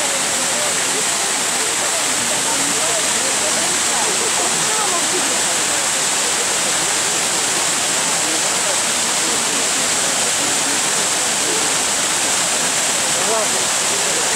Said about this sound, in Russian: Вода шумит.